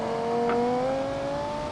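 A car's engine revving in Automation/BeamNG while driving a 2020 Viper concept build, a steady, droning engine tone that rises slowly in pitch, close and continuous with no talk.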